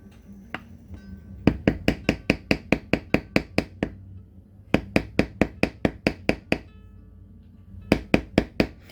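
A beveling tool is tapped to tool a DIY Wonder Woman circlet, heard as three runs of sharp, evenly paced close taps with short pauses between them.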